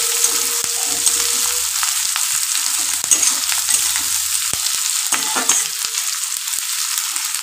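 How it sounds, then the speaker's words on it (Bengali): Onions frying in a pan for a home-style chicken curry, a steady close hiss of sizzling oil with occasional clicks and scrapes of stirring throughout, no voices. "দেখুন পেঁয়াজটা লাল হয়ে এসেছে।"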